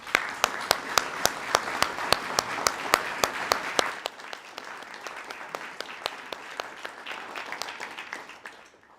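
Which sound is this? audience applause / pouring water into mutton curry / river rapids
audience applause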